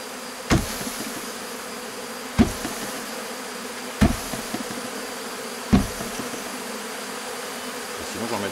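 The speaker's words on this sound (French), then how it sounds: "Vous savez, il y aura trop d'abeilles là-dedans." Bees buzzing in and around a hornet nest box, a continuous low insect drone close by, broken by four sharp knocks spaced a couple of seconds apart, no speech.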